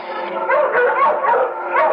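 A pack of dogs barking, yipping and howling together in a radio drama horror scene, a continuous loud overlapping chorus with no pauses.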